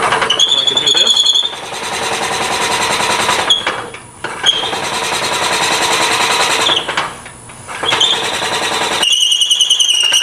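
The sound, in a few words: drill bit boring into a tool handle on a lathe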